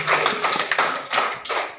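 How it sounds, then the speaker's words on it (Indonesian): Brief classroom applause for students, several quick bursts of hand clapping close by, with no talking. "Sekarang tepuk tangan untuk yang berhasil menjawab pertanyaannya."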